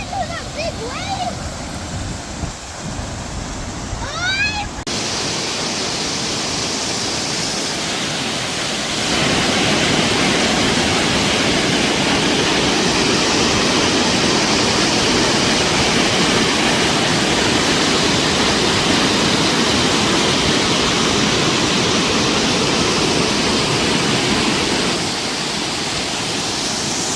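Cwmorthin Waterfall rushing as a steady, loud broadband roar of falling water, growing heavier after a few seconds, with brief voices near the start.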